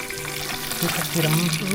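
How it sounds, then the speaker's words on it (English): Fish frying in a pan in a home kitchen in the Philippines, a steady close crackling sizzle with a voice speaking over it. "Let's fry the fish."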